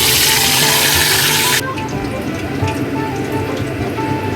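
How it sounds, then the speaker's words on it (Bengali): Hilsa fish heads fry in mustard oil in a pan, giving a loud, steady broadband sizzle that drops abruptly to a softer, crackling fry partway through and continues alone. "কড়াতে আমি সর্ষের তেল দিয়েছি কারণ পুরো রান্নাটাই আমি করব সর্ষের তেলে তো এবার মাছের মাথাগুলিকে একটু ভেজে নেই"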